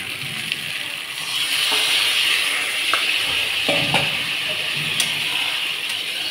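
Food is stirred in a sizzling frying pan, a steady close hiss with occasional scrapes and light clinks of a utensil against the pan.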